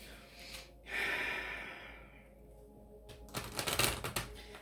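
Tarot advice cards being shuffled by hand, a soft papery whoosh and sliding rustle, then a burst of rapid riffling clicks near the end, close and fairly quiet.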